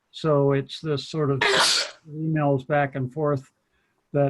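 A single loud sneeze bursts out in the middle of a man's speech at a town council meeting, with talking resuming right after.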